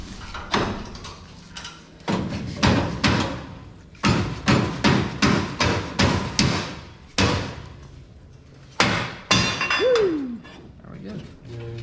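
An orange hammer strikes metal in a garage working on a dirt racing car, giving repeated loud thuds in bursts, some in quick rhythmic runs, with a short squeak between blows.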